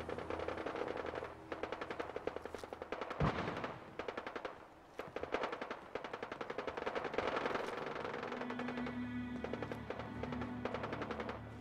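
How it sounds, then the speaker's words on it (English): Gunfire in the video game Fallout 4: rapid automatic bursts rattling continuously, with a sharp heavy shot partway through, then steadier firing over a droning musical or ambient tone, with no speech. "I really don't want to get shot at like that."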